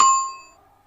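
A single bright notification-bell ding sound effect strikes loudly and then fades smoothly over under a second, with a clear ringing tone and no other sound.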